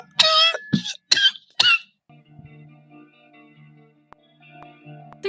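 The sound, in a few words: person coughing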